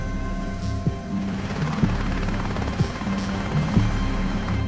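A helicopter's steady rotor drone and whine fill the scene, with rhythmic thumps roughly every second, close and constant.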